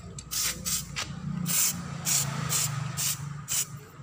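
Samurai metallic silver spray paint hisses out in short repeated bursts, a sharp airy spray pulsing on and off close by.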